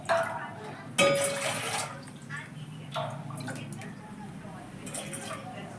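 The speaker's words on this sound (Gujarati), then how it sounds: "હવે આપણે એમાં પાણી નાખશું।" Water is poured into a cooking pot set on a lit gas stove, heard as a few short, splashy pours at close range with quiet gaps between them and a soft voice in the background.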